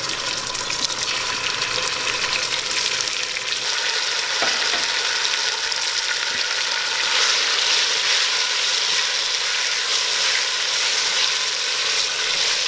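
Meat frying with browned garlic in a pot makes a loud, continuous crackling sizzle that runs unbroken from start to finish, with no talking.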